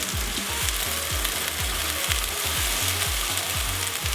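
Thai green curry paste sizzles and fries in a pan as it is stirred, a continuous close hiss with regular low scraping strokes from the utensil throughout, no voices.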